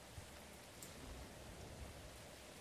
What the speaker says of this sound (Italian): No, era solo la pioggia.